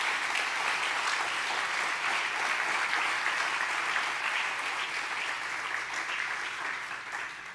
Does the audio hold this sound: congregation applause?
yes